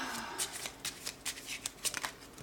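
A Steampunk tarot deck being shuffled, with quick bursts of card riffling and soft flicks in an uneven rhythm, close and fairly quiet, with no one talking.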